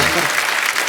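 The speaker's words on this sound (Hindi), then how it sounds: "जोरदार तालियां।" Loud burst of applause from a studio audience at a comedy talk show, dense clapping that rises sharply and holds for under a second.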